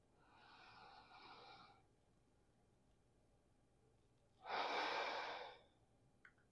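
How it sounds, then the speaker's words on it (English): Two slow, deep breaths drawn through the nose, each a soft, airy rush lasting one to two seconds, the second louder and closer, with quiet pauses between them. "Deep inhale."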